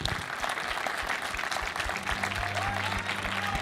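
A festival audience applauds the youth jury at the closing ceremony of a short film festival, a dense, steady wash of many hands clapping that carries on throughout.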